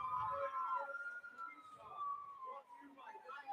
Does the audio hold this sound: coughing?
no